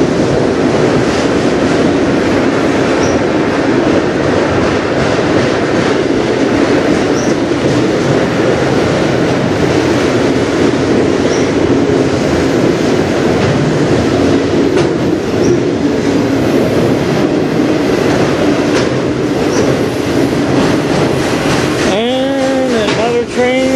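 A CN freight train rolls past on the Strathroy Subdivision, a loud, steady rumble of wheels and cars that continues throughout, with a brief squealing wheel near the end.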